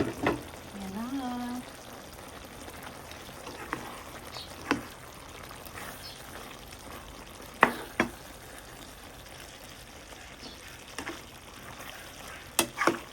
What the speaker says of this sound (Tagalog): Malapit na maluto ang aking menudo.